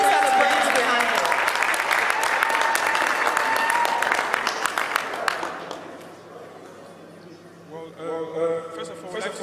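Conference audience applauding at the close of a day's session, a dense wash of clapping that holds strong for several seconds, then thins and fades, with scattered voices and chatter rising as it dies down.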